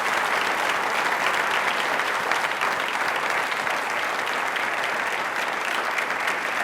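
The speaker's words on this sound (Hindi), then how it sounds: "कम ऑन, एक बार तालियां" Loud, continuous studio audience applause during an Independence Day special quiz show on Indian regional television, thick unbroken clapping that stays steady from start to finish.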